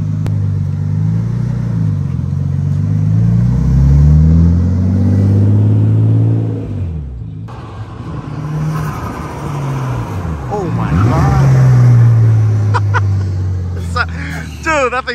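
A JDM import car's engine runs after sitting with a dead battery, a loud, close idle with rising and falling revs and a deep rumble, while people talk over it.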